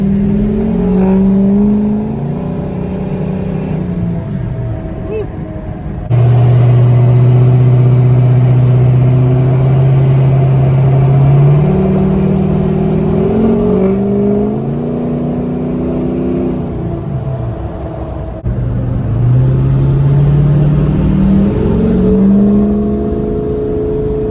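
A 6.0L Power Stroke diesel truck fitted with a loud turbo accelerates hard through several gears, engine pitch climbing and dropping at each shift while a rising turbo whistle sings above it, loud and close from inside the cab.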